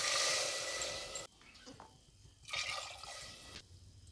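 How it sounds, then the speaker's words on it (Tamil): Water is poured into a pan for rice pulao, a soft rushing hiss of liquid in two short bursts separated by a brief quieter pause with small clinks, fairly faint and close. "அதுக்கு 2 கப் அளவு தண்ணி சேர்த்துக்கலாம்."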